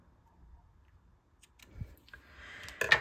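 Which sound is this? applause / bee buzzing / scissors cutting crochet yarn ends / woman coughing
scissors cutting crochet yarn ends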